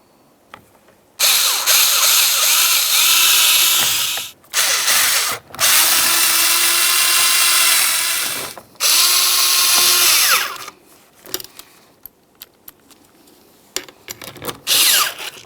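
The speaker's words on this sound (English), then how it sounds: "Now we're going to start putting in both of these mounting bolts" A power tool drives mounting bolts into the door of a 2006-10 Ford Explorer during a rear window regulator replacement, with several loud bursts of whirring and ratcheting separated by short pauses.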